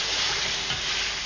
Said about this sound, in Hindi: 2 मिनट हो गए हैं मुझे आलूओं को चिकन के साथ भूनते हुए